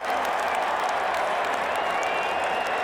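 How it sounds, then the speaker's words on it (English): A stadium crowd roars steadily through an Iowa Hawkeyes versus Northwestern college football game, a dense, loud wash of cheering and applause that holds without a break. "you can hear the roar of the crowd"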